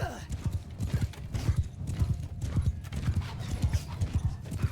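Horse galloping in Mount & Blade II: Bannerlord, a fast, regular thud of hooves close by with the rider's voice talking over the rhythm.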